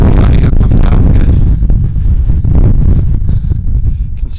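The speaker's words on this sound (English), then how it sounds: "It's really windy up here. Hopefully the audio comes out good." Strong wind on a high mountain pass in the Wind River range, Jackass Pass, buffets the microphone in loud, continuous gusty roars that rise and fall.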